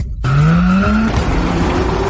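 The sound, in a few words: car braking and skidding to a stop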